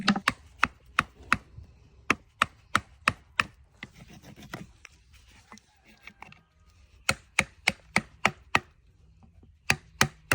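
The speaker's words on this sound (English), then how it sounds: "So here I'm using a nylon hammer. I kind of prefer these to a traditional driving hammer for popping clinches" A farrier's nylon hammer pops horseshoe clinches during half shoeing and slider removal, making crisp, evenly spaced knocks in quick runs, with a quieter scraping pause in the middle before the rapid tapping resumes.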